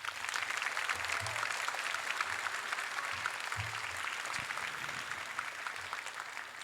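Audience applause for award recipient Nayon Gill at a school class night ceremony, a steady wash of clapping held at even level through the whole stretch with some low rumble underneath.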